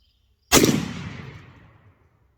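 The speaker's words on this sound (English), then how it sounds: "another shot with the 2 ounce, 3-inch, number 6 Challenger turkey load." A Charles Daly shotgun with a full choke fires one 3-inch, 2-ounce number 6 Challenger turkey load: a single loud, close blast followed by a long fading echo.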